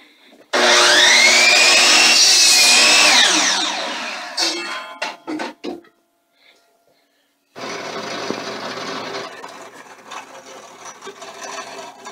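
A loud, steady whirring drill press bores into wooden 2x2 lumber for a few seconds, then sharp clattering knocks and a pause before a softer, continuous mechanical hum.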